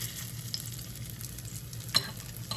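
Zucchini fritters fry in olive oil in a skillet, a soft steady sizzle with a couple of sharper crackles and utensil taps near the end, quiet and close, no voices.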